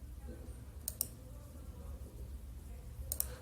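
Two sharp computer mouse clicks on a login button, each a quick double-tick, spaced about two seconds apart over a low, quiet room hum.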